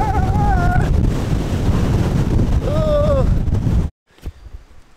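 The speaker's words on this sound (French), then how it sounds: "Il y a un vent de malade," Very strong wind roars across the microphone on the 1753 m summit of Mont Mézin in the Ardèche in winter, a loud, dense buffeting rush under a voice, then it cuts off abruptly into near silence.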